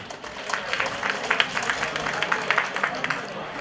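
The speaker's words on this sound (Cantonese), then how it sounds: "熱烈嘅掌聲歡迎" A seated audience at a community fundraising event claps to welcome a speaker to the stage, a dense, fairly loud patter of many hands that holds steady, with bursts of louder claps throughout.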